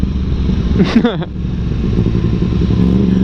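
A Yamaha MT-10 (FZ-10) motorcycle rides over a bumpy road, its engine a loud, close, continuous low drone with a brief rising whine and rattle near the start.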